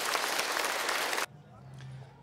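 A church congregation applauds to welcome Father Michael at a Lunar New Year Mass at a Vietnamese parish in Charlotte, NC, with loud, dense clapping that stops abruptly after about a second, leaving faint room sound and a murmured voice.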